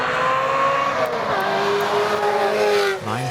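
A 1989 Ferrari 348 races up a hillclimb course, its engine note loud and sustained with rising and falling pitch as it accelerates and shifts, a brief dip near the end before it pulls again.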